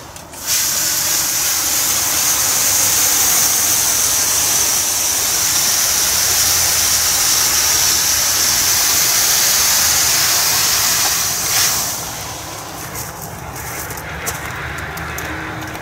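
Steady, loud hiss of a greenhouse propagation mist system spraying fine water, starting abruptly and holding for about eleven seconds before cutting back to a softer, uneven spray with light rustling, close up and with no voices.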